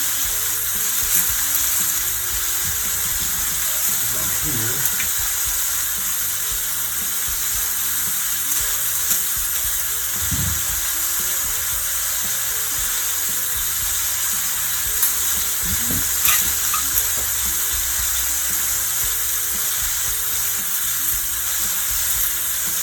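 Chicken pieces for Southern smothered fried chicken sizzle steadily in a hot pan, a loud continuous crackling hiss that runs unbroken throughout with only faint clinks underneath.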